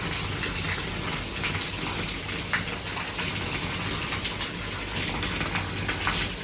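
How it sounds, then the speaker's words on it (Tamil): Hot water gushes steadily from a bathroom tap in a Munnar tree house, a loud, continuous splashing rush with no pauses. "இதுதான் ஹீட் வாட்டர், சூடாக வருது."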